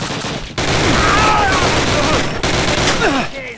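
Gunfire rattles through a Call of Duty battle, dense overlapping shots and bursts filling the scene loudly, with shouting voices mixed into the chaos.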